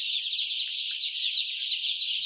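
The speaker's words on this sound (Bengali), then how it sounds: "আজকের ভিডিওতে যে মুরগিগুলো দেখতে পাচ্ছেন, এই মুরগিগুলো হচ্ছে বনরাজা মুরগি।" Bonraja chickens, a colour-chip poultry breed, cluck and chatter together in a continuous, busy stream of close, fairly loud calls with no talking.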